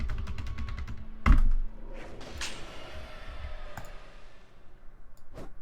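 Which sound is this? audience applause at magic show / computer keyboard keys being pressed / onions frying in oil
computer keyboard keys being pressed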